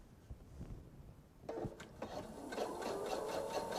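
A home sewing machine stitches fabric a quarter inch from the edge for a jelly roll bag, starting after a quiet pause with a few clicks and then settling into a quick, steady mechanical whir, close and fairly soft.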